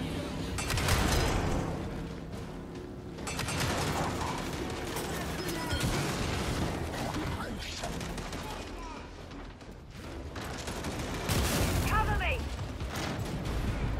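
Gunfire in the video game Gears 5, bursts of shots and clattering weapon mechanisms crackling through a dense, continuous game soundscape, with voices talking at times over the action.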